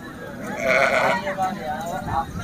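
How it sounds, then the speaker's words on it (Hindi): Tapri breed goats bleating at a morning goat market in Hyderabad, a few wavering bleats close by over crowd noise, with voices talking in the background. "इधर टापरी ब्रीड की 3 कलर में बकरियां खड़ी हुई हैं।"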